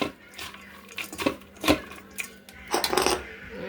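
Cabbage fritter batter with turmeric, nigella seeds and ground cumin-coriander being mixed by hand or spoon in a bowl, giving a string of soft, close clinks and wet scraping taps in irregular bursts.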